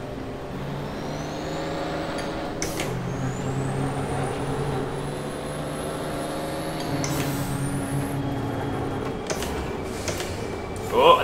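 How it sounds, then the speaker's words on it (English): Truck engines roar through rising and falling revs in the Formula Truck racing sim by Reiza Studios, with high-pitched tyre squeals sweeping upward and brief bursts of hiss, loud and continuous. "The engine sounds, you've got the tyre squealing sounds as well."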